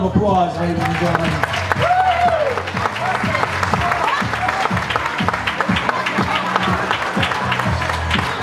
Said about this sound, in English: Give him another round of applause, ladies and gentlemen.